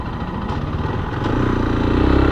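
A Zontes ZT310X motorcycle engine on a test ride makes a steady mid-pitched drone that swells slightly as the revs rise, close and continuous with no talking.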